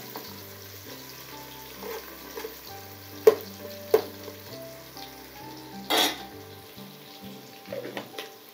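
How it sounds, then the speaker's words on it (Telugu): Onions fry in a pan for mutton biryani, a low continuous sizzle with a few sharp utensil knocks and one brief louder hiss, heard up close with no speech. "మంచిగా వేగాలి ఎర్రగా."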